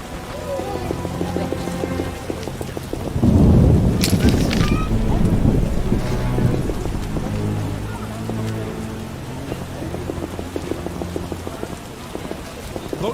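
Heavy rain pours steadily in The Witcher video game, a dense constant hiss with a gust of wind swelling partway through and faint character voices murmuring underneath.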